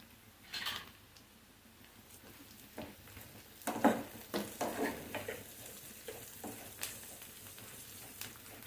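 Ginger garlic paste frying in a pan, a soft sizzle under a series of stirring scrapes and taps that come in irregular bursts, loudest around the middle.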